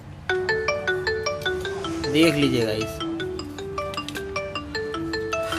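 A Mi Note 5 phone with a sound problem plays its ringtone: a repeating melody of bright electronic notes in a steady rhythm, with someone speaking over it briefly partway through.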